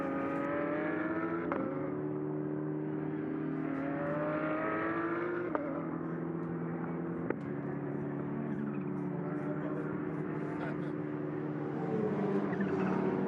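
GT endurance race cars in the pit lane at Paul Ricard circuit during a six-hour race, engines droning and shifting pitch continuously with several sharp gear-change cuts, a steady mechanical roar without talk.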